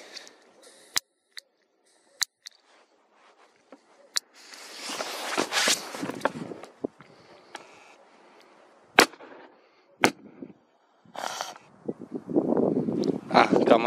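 A three-shot Corsar firecracker goes off, giving sharp, sudden cracks spaced irregularly apart, with people talking between the bangs.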